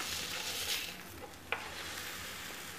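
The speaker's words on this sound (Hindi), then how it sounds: "ये हमने अच्छी तरह से इसके गोल्डन होने तक इसको फ्राई करना है।" Paneer-topped bread slices frying on a hot tawa, giving a steady soft sizzle throughout, with a brief utensil tap partway through and no talking.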